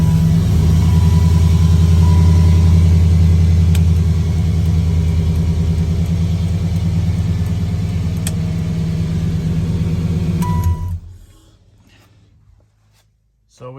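A Chevrolet Impala SS engine runs at a steady low idle rumble, loud and close, for about eleven seconds before it cuts off into near silence, with a faint restart of sound at the very end.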